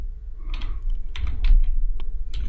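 Someone types code on a computer keyboard with uneven bursts of close, crisp key clicks and clacks that run steadily throughout.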